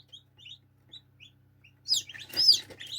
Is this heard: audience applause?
no